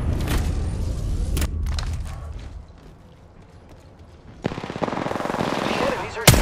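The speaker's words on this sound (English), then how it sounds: "The enemies are shooting me." Enemy gunfire in the video game Apex Legends, with rapid automatic bursts at the start and again near the end and a quieter lull between, over a background of game sound.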